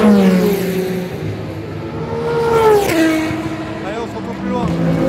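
Old Peugeot race car passing at Le Mans, engine whining and rising in pitch with gear changes as it roars by up close, another car following behind, voices heard in the background.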